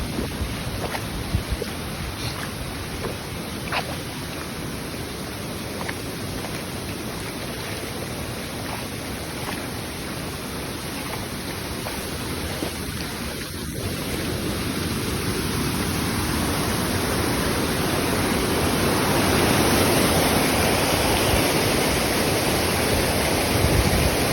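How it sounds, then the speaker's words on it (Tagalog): Steady, heavy wash of continuous heavy rain pouring down amid flooding, constant throughout with a slight swell toward the end and no voices. "Pero tuloy-tuloy pa rin yung ulan."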